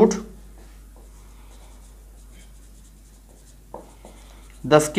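Pen or pencil writing on paper during an 8th-grade maths lesson on square roots: faint, soft scratching strokes sit in a quiet room between bursts of a teacher's speech at the start and end.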